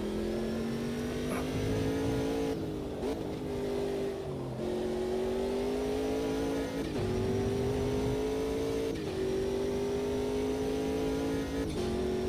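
Race car engine in a sim racing video game revving loud and high, holding steady pitch with brief dips and rises as gears shift every couple of seconds, continuous throughout.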